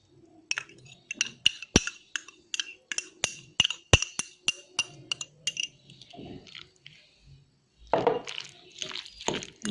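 A spoon stirs yogurt and minced meat in a bowl for samosa filling, producing a rapid series of sharp clinks and taps against the bowl, then softer wet squishing sounds, close and clear.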